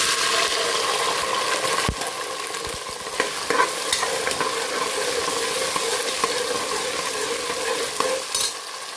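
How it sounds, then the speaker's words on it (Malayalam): About four kilos of whole shallots sautéing in a large pan for beef vindaloo, a broad steady sizzle with occasional scrapes and knocks of a stirring spoon, close and uninterrupted by speech. "ഇനി ഇതൊന്ന് വഴറ്റിയെടുക്കാം."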